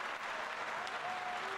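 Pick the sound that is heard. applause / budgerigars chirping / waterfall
applause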